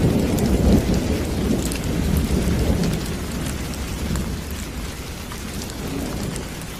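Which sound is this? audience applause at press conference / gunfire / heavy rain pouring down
heavy rain pouring down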